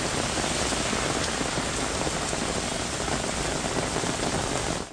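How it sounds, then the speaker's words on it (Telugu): Heavy rain pours down across Hyderabad at night, a dense, continuous hiss of drops striking surfaces, loud and unbroken, with no voices. "హైదరాబాద్ వ్యాప్తంగా పలు ప్రాంతాల్లో బుధవారం రాత్రి వర్షం భారీగా కురిసింది."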